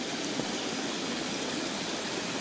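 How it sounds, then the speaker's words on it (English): Rushing creek water at a mountain trail crossing, a dense continuous broadband roar, close and loud, steady throughout with no voices over it. "There's a creek crossing here."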